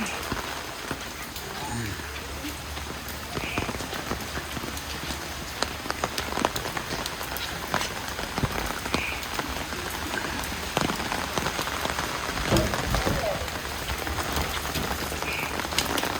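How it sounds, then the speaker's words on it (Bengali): Steady rain falls on outdoor surfaces in a village neighbourhood, with a continuous dense patter of drops and occasional heavier splashes, fairly close and unbroken throughout. "তো পানি পড়ছে"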